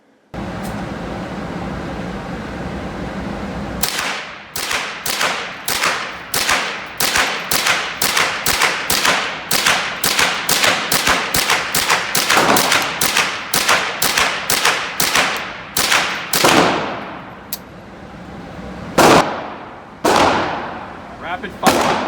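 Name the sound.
gunshots from rifle with Volquartsen TG2000 trigger at range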